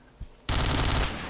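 In an Uncharted video game match, a sudden burst of rapid automatic gunfire erupts after a brief quiet moment and continues loudly to the end.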